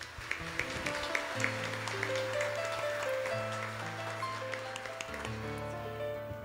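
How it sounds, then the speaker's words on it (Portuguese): Church congregation applause during a homily, steady scattered clapping that sits under sustained organ or keyboard chords, fairly faint and distant, with a few louder claps standing out near the start. "Palmas para ele também."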